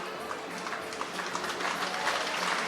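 Audience applause at a studbook stallion approval horse show, a dense, steady patter of clapping that grows slightly louder toward the end, with no clear talk over it.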